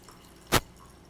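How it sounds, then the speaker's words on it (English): A single short splash as half an ounce of plantain syrup is poured into a cocktail glass, one quick wet burst standing alone in near silence. "You're going to pour a 1/2 ounce of plantain syrup"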